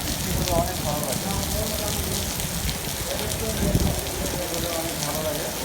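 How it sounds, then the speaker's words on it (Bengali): Steady rain falling in Qatar, a dense continuous hiss of drops on surfaces, fairly loud and unbroken throughout, with faint voices in the background. "অনেক বছর পরে এরকম বৃষ্টি কাতারে"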